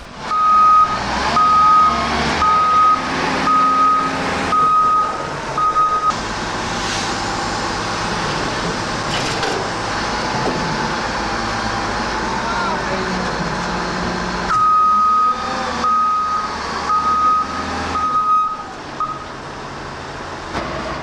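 Reversing beeps sound repeatedly from a container handler loading a 30-tonne container onto a lorry's tipping trailer, steady evenly spaced tones over heavy engine rumble, pausing midway then returning, with faint talk underneath.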